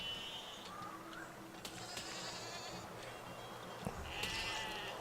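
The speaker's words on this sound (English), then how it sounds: "I think those sheep are attacking me." Sheep bleat in the video game Besiege, several wavering calls rising and falling over a steady game background, moderately loud and fairly close, with no talking.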